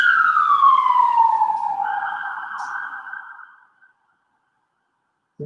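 An ambulance siren passing along a city street, heard as a loud, sweeping tone that slides downward and gradually fades into the distance until it falls silent.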